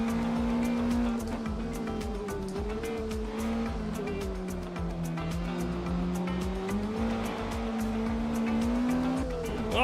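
Tires scrub and squeal in sustained understeer on a sim racing car, a continuous whining screech over a droning engine note that rises and falls across the whole stretch.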